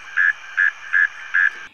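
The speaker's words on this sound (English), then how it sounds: "The northern mole cricket" A northern mole cricket calling from a closed burrow at the damp margin of a stream or wetland, giving four evenly spaced, buzzy trilled pulses in a steady rhythm, loud and close against a quiet background.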